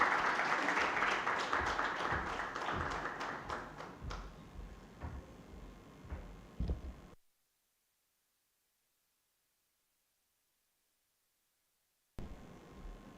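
Audience applause for a speaker at the Ai-Genda event at Novotel Goa, a dense loud burst for about seven seconds that then cuts to silence, with a brief return of noise at the very end.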